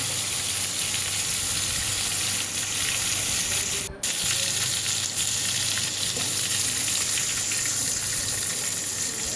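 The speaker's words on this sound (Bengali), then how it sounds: "তেলের মধ্যে একটু ভালো করে ভেজে নিলে খেতে ভালো লাগে।" Large prawns fry in hot oil and get turned over, a constant close hiss of sizzling with a brief break midway.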